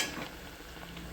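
Bhatura frying in hot oil while oil is spooned over the dough, giving a steady close sizzle with faint soft splashes and no talking.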